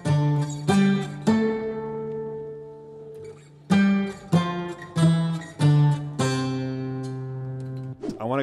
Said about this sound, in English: We actually have two different guitars making up our fake 12 string.